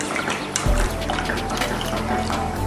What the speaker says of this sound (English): I'm going to keep cooking this down as it's bubbling away